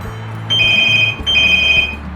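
A telephone rings twice in a steady electronic trill, each burst lasting about 0.7 seconds, loud and close against a low background hum, with no talking.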